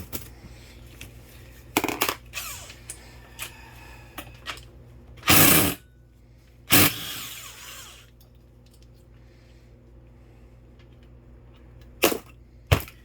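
A Harbor Freight air impact gun fires in loud, short bursts during a 2003 Honda Accord transmission teardown, with several hammering rattles separated by quiet stretches of small clinks and shop noise.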